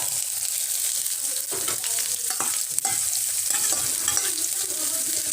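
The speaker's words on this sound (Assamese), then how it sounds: "ইয়াত মই এতিয়া দিম কাটি থোৱা পিয়াজ আৰু জলকীয়াখিনি।" Chopped onions and green chilies hit hot oil in a pan and sizzle loudly and continuously, with occasional stirring scrapes throughout and no talking.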